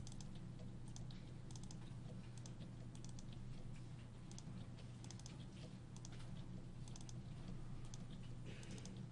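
Rapid, continuous typing on a computer keyboard, with irregular key clatter and occasional louder bursts of keystrokes throughout, no talking.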